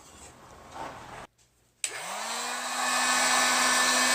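A heat gun starts up after a brief silence and blows hot air with a steady, loud whooshing roar and a rising motor whine that settles into a constant tone, close by and continuing to the end.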